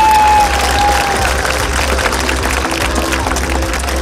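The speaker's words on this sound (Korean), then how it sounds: "명품 도자도시 이천시를 빛내주신 명장님들께 다시 한번 박수 부탁드립니다" Festival audience at the Icheon ceramics festival stage applauding master ceramic craftsmen, a loud, sustained wash of clapping from a crowd that holds steady throughout, with a brief tone at the start.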